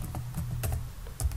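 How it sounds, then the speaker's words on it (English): Short bursts of computer keyboard typing as a react-native link command is entered, a few quick keystrokes close by with a low hum underneath, no speech. "we have to type react-native space link space package name"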